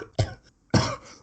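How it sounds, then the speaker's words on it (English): Two harsh, loud coughs close by, separated by a short pause, the second one longer and trailing off hoarsely, with no speech. "Bloody nasty cough I've got."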